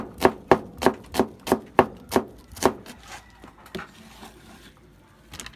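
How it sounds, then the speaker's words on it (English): A knife chops purple onion on a cutting board in a steady run of about ten sharp, close thuds, then slows to a few softer cuts before quieting. "Remember when you cut now, use the claw method and hold it"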